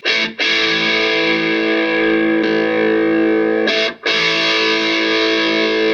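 A distorted Yamaha Revstar electric guitar on its P90 bridge pickup with the focus switch on rings out in thick, sustained chords with a throaty mid-range growl, briefly cut twice before ringing on.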